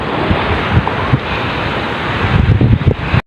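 Steady roar of ocean surf with wind buffeting the microphone, waves washing in continuously and swelling louder near the end.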